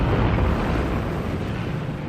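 Heavy naval and aerial bombardment of Okinawa in 1945 comes through as a dense, continuous, roaring rumble of explosions. It is loud and unbroken across the whole stretch, with no voices.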